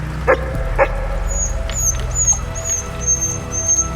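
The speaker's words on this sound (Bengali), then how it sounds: "বলাইয়ের ঘেউ ঘেউ শব্দটা হঠাৎই যেন আর্তনাদ, একটা চাপা গোঙানিতে বদলে গেল।" A guard dog named Bolai barks sharply twice on a stormy night, then breaks into a thin, high, muffled whimpering cry over a steady low rumble of storm and rain.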